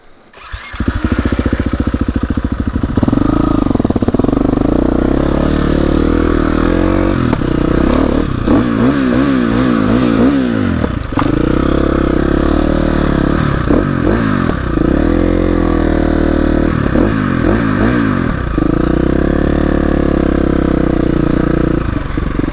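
Dirt bike engine idling and revving on a live trail, loud and close, with rising and falling throttle sweeps over a constant rough drone for the whole stretch and no talk.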